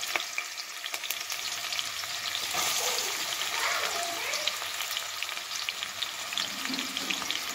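Chopped onion, green chillies and curry leaves frying in a pan for egg kothu parotta give a steady, close sizzle that runs unbroken with no voices.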